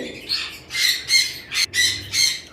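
A breeding cockatiel squawking in a series of about six harsh, bright calls at a steady pace, close and fairly loud.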